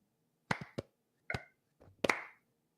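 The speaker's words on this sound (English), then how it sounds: "we'll do our stupid clap thing where we clap 3 times in unison" Hand claps used for audio sync ring out as sharp separate smacks, a close pair then a single clap then a couple more, uneven rather than cleanly together, in a quiet room.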